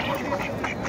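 Ducks quack softly in a quick, short burst, a few overlapping calls at moderate distance.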